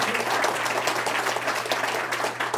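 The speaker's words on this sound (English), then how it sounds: "I'd like us all to just give him a quick round of applause" An audience at a University of Kansas celebration gives steady, full applause to honor Ambassador Delano Lewis, dense and even throughout with no pause.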